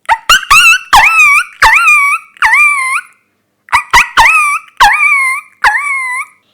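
A school student performing mimicry at a school program in Chelannur imitates a dog hit by a thrown stone: sharp yelps followed by rising, whining cries, repeated in two bursts, loud and close.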